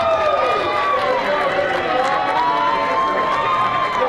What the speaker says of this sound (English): Another good round of applause over there